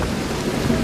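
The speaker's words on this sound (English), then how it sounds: "Oh, it's thunderstorming." A thunderstorm brings a steady hiss of falling rain and a low rumble of thunder, filling the brief moment evenly with no voices.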